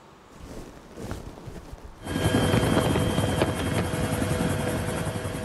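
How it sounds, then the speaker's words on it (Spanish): An army aviation helicopter (Huey) on patrol over Bucaramanga, Colombia, starts faint and distant, then jumps to a loud, close, continuous rotor and turbine roar with wind buffeting for the remainder. "las tripulaciones del Batallón Movilidad Maniobra de Aviación patrullan desde un helicóptero Huayl de aviación del Ejército Nacional a la Ciudad Bonita"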